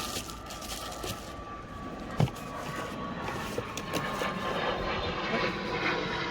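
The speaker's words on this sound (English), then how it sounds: "There's a plane going overhead." An airplane passes overhead outdoors, a steady distant engine drone with broad rushing noise that holds through the whole stretch, plus one brief sharp knock close by partway in.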